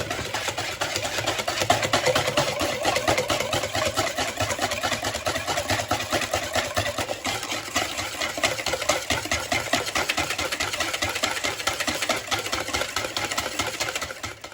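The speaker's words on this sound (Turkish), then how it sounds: "Şimdi sütümüzü ve sıvı yağımızı da ekleyip yine bir 5 dakika daha çırpacağız." An electric mixer beats eggs, sugar, milk and oil into cake batter, a continuous close motor whir with a fast rattling buzz that holds steady throughout, no voices.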